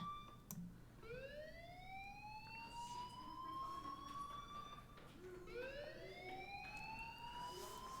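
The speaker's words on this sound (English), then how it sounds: "do you hear that fire alarm? That means you should be outside." A fire alarm siren in the video game Life is Strange wails in two rising sweeps, each climbing and holding a steady tone, faint and distant under a low background hum.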